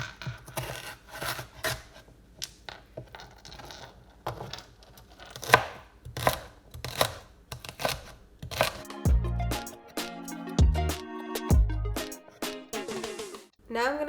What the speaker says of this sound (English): we are going to chop up the celery